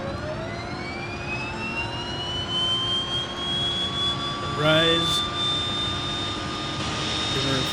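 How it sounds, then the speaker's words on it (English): A simulated DHC-6-300 Twin Otter turboprop engine in a flight simulator spools up with rising whines building over steady turbine roar; a brief voice and a short mechanical chirp break in midway. "Alright, so let's go ahead and start her up."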